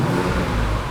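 Porsche Cayenne GTS from 2015 with its variable exhaust engaged, engine revving loud and close in a steady, continuous roar with no pauses and no talk.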